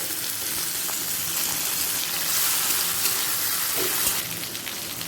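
Chopped tomato sizzles in hot mustard oil with nigella seeds, a steady close frying hiss that swells briefly in the middle and then settles, with no voices.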